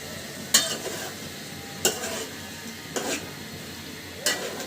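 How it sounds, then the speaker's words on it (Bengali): Pieces of katla fish are tossed with tomato and spices in a pan of hot oil. Four sharp scraping stirs ring out at steady intervals over a low, continuous sizzle. "টমেটো এবং মশলার সঙ্গে পিসগুলো খুব সুন্দর করে মাখিয়ে নিব"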